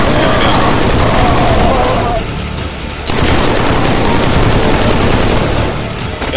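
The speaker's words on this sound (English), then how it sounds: "somebody shooting at me there" Loud, dense automatic gunfire in the shooter video game Killzone 3, sustained bursts with a brief dip midway before the firing resumes at full intensity.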